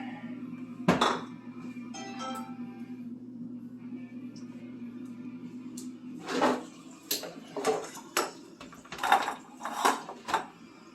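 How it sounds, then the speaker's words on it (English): Dishes and a small bowl clink and knock together in a kitchen: a sharp clink near the start, then a run of rhythmic ceramic clatters near the end, over a steady low hum and faint background noise. "we're going to grab Amy a little bowl here"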